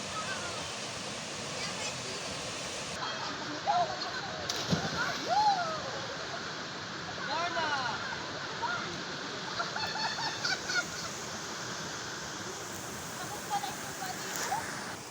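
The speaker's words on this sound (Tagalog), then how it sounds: "nakarating na kami dito sa Nagbobotilya Waterfalls or River" Steady rushing water at a waterfall and river in Cabangan, Zambales, a broad constant roar with occasional splashes, close and continuous throughout.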